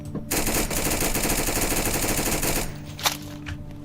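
Sustained automatic machine gun fire in a sandbox capture-the-flag game, a rapid, dense burst lasting about two and a half seconds, followed by a lone sharp shot and quieter rattles.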